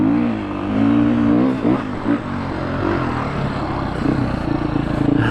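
A dirt bike ridden on beach sand at dusk, its engine droning and revving up and down close by in a continuous rising and falling buzz.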